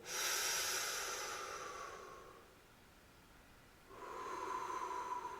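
Slow, audible breathing during a guided deep-breathing exercise: a long airy exhale, a brief quiet pause, then a hissing inhale, close and fairly loud with no talking.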